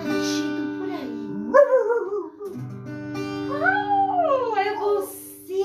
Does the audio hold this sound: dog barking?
yes